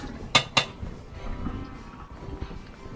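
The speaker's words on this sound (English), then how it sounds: "Need to rinse. I don't actually need to, but I do have multiple blender tins." Blender tins being rinsed: two sharp metallic clanks in quick succession, then a faint running-water and kitchen background.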